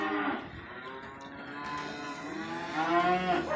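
Angry bulls and cows moo repeatedly on a farm, several overlapping drawn-out bellows at close to moderate distance with no talking.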